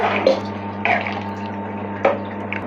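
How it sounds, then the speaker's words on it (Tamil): Water splashes into a pot of chickpea curry in a few brief bursts over a steady low electrical hum. "குழம்புக்கு தேவையான அளவுக்கிட்ட தண்ணி இது கூட ஆட் பண்ணிக்கோங்க"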